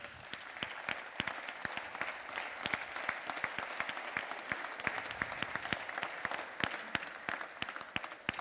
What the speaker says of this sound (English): I want us to clap for you.